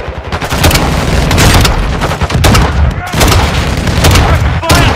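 Grenade launcher blasts and rapid gunfire in the video game Call of Duty Modern Warfare 2 prison break mission: loud, dense bursts of shots and booms that run almost continuously, with short pauses between barrages.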